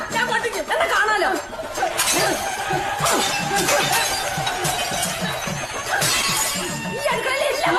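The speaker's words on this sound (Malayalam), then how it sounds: "ഈ അടുക്കളയിലെ എല്ലാ പാത്രവും ഞാൻ പൊട്ടിക്കും." Kitchen dishes are smashed in several loud crashes and shattering breaks, spread across a busy stretch of raised, agitated voices and chatter.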